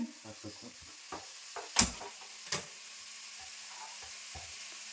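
Vegetables fry quietly in a home-kitchen pan while a utensil stirs them, making a soft sizzle broken by rhythmic scraping strokes and two sharper clanks against the metal.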